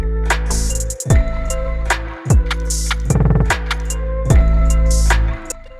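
An electronic production plays back with pounding drums, a deep bass line and a synth melody, loud and dense throughout with sweeping pitch drops between bars and no talking.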